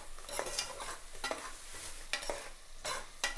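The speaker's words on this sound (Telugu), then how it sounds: "ఇగో కాస్త వేగినాయండి ఉల్లిపాయలు." Onions frying in oil for a tempering, with a soft background sizzle broken by several short scraping stirs of a spoon against the pan, quiet and close.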